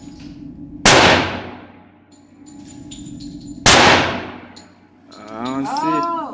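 Two loud, sharp gunshots ring out at an outdoor shooting range, a few seconds apart, each with a ringing clang from a steel target that decays slowly. A voice is heard briefly near the end.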